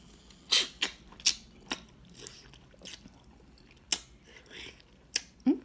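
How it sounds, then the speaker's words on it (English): Crunchy bites and chewing of a large pickle with a Snickers bar, several crisp, separate crunches spread over a few seconds, close to the mic and fairly quiet. "And now I'm gonna bite into it and see how this tastes."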